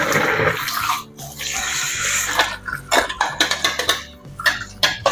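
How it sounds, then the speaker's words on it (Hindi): Boiled carrots for a Russian salad are strained and rinsed under a running tap, with a steady rush of water broken by sharp clatters and knocks of a pot and strainer, close and fairly loud. "टैप वाटर के साथ अच्छे से वॉश करना है।"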